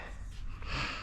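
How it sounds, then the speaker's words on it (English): A person with a cold sniffles and snorts through a congested nose, close and fairly quiet, with short breathy bursts during a motorcycle handlebar repair. "don't mind my sniffling, I'm a little sick"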